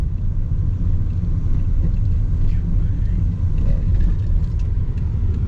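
A car interior drives through the Boston Edison neighborhood of Detroit, with a loud, steady low engine and road rumble throughout and no clear talking.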